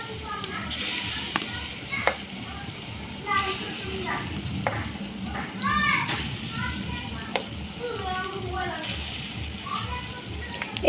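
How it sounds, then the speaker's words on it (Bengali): Mung dal fritters frying in hot oil, a low steady sizzle with intermittent stirring and scraping of the pan, fairly quiet, with a voice and other talk in the background. "এইভাবে সমস্তগুলো ভেজে নেব।"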